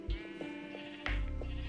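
Sheep in Minecraft bleating in short, loud, nasal calls, two distinct bleats close by with a brief pause between them.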